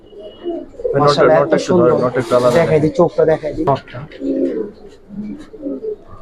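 Large Giribaz pigeons of the Palla line give soft throaty coos close by, heard in short bursts beneath someone talking over the birds.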